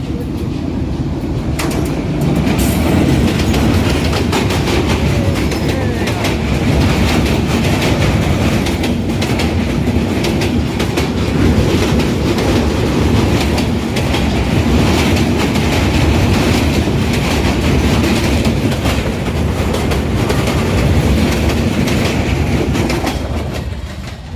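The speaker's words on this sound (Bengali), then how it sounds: "ট্রেনটা চলে গেল" A loud train rumbles past close by for the whole stretch, a steady roar with rhythmic clattering of wheels on the rails.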